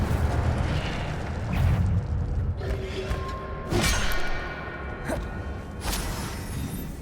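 Incendio fire spell cast in the Hogwarts Legacy video game, heard as whooshing, rumbling magical blasts and crackling bursts that repeat several times with short pauses between them, with no one talking.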